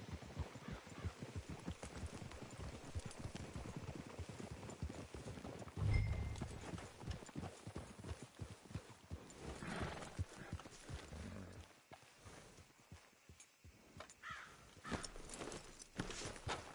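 Horse hooves clip-clop in a steady walking rhythm throughout a Red Dead Redemption 2 game scene, fairly close and continuous, with a brief whinny-like burst partway and faint game ambience beneath.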